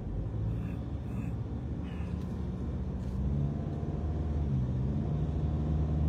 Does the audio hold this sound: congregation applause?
no